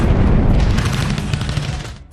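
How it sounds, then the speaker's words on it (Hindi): Heavy Pakistani artillery shelling and gunfire from the 1965 India-Pakistan war in the Sialkot sector, a loud continuous barrage of rumbling booms and crackling shots with no gaps, fading slightly toward the end. "पाकिस्तानी तोपखाने से जबरदस्त गोलाबारी शुरू हो गई।"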